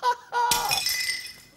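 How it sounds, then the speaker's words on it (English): A dropped cup strikes a hard floor and smashes, with a short thud followed by a bright, ringing crash of shattering pieces that fades over about a second, close and loud. "I dropped a cup."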